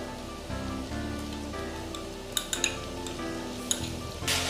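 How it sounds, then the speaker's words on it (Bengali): Ginger garlic paste frying with onions in a pan on medium flame, a soft steady sizzle under a few sharp clinks of a utensil against the pan. "খুব ভালো করে পেঁয়াজের সঙ্গে ফ্রাই করে নেব 2 মিনিট।"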